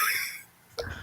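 A single short cough from a person on a podcast, close and fairly quiet, following a fading sound and ending the moment.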